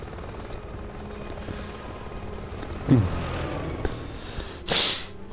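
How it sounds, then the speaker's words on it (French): A helicopter in the Resident Evil 6 video game drones with a steady rotor hum in the background, joined by a few sharp nearby thumps and bursts of noise. "Faire attention que l'hélico il nous surveille et tout."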